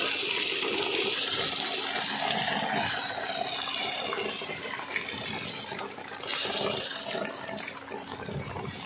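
Rainwater gushes steadily out of a waterlogged spot after heavy rain in rural Gujarat, a continuous loud splashing, rushing flow with brief surges, and no voices.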